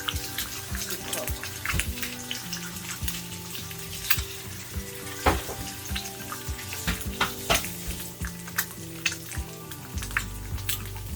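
Eggs frying in a pan with breakfast hash give a loud, steady sizzle and crackle, marked by sharp pops and occasional scraping clicks, with no talking over it.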